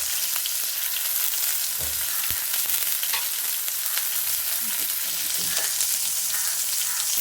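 Onions frying in oil for a carrot and beans stir-fry, a steady close sizzle running throughout with occasional scrapes and clinks from stirring, no voices.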